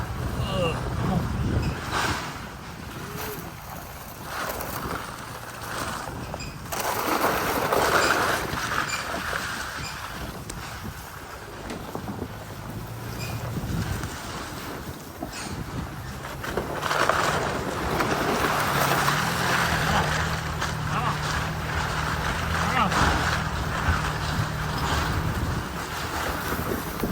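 A four-wheeler ATV pushes through brush over rotten, frozen ground, its steady engine drone mixed with continuous scratching and rustling of branches against the machine, with wind noise and a person talking intermittently throughout.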